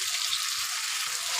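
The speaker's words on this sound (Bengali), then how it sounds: "তেল গরম হয়ে গেছে, অল্প একটু জিরে দেব, গোটা জিরে। জিরেটা ভাজা হয়ে গেলে এবার আমি ম্যারিনেট করা মাছটা দিয়ে দেব।" Marinated tilapia frying in hot oil with whole cumin, a steady dense sizzle running without a break, close and fairly loud, with faint stirring thumps underneath.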